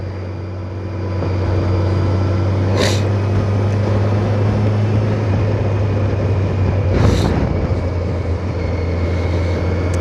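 A 2021 Kawasaki Versys 1000 motorcycle in fourth gear on a roll-on, producing a steady, loud engine drone with wind rush and no pauses or talk.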